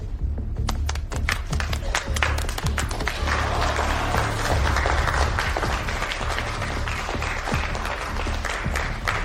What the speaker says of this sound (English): Let us all give it up with the warmest applause